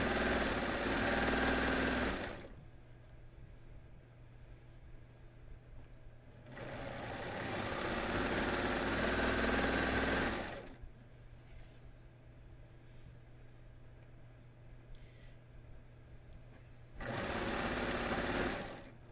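A serger with differential feed runs in three long bursts, sewing a skort seam, with quiet pauses between the runs.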